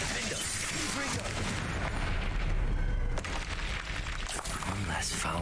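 A Confringo fire spell detonates in Hogwarts Legacy combat, a heavy booming explosion with rumbling debris and crackle amid ongoing battle noise, while voices talk over it.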